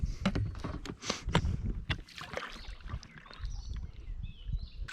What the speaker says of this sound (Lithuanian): Žiūrėk, kad galiu taip valtį apsukti.